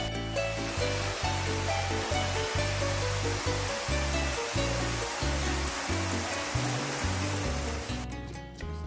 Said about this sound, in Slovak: jaspisová rieka Rio Jaspe, s krásnym vodopádom vytvoreným z krvavo-červeného jaspisu